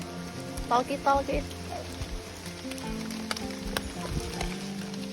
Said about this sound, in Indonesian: Terus hujan guys